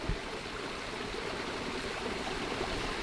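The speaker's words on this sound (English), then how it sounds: "I like this though, how it streams out through the crack" A small waterfall streams out through a crack in the rock at Ferne Clyffe State Park in winter, giving a steady soft splashing trickle that stays even and close throughout.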